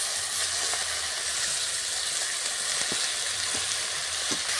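Marinated soybean chunks frying in a pan with garlic for Nepali chaula, giving a steady broad hissing sizzle throughout with a few faint pops, close and fairly loud.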